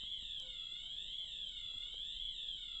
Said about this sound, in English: All right, I think a fire alarm's happening.